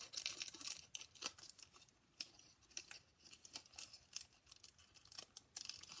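Scissors trimming metallic foil for card making, giving close, quiet, crisp snipping and crinkling cuts at an irregular rhythm with no talk.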